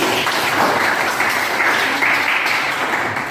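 Students in a school classroom give a short burst of applause, close, dense clapping that fills the room briefly and carries on steadily without any voices over it.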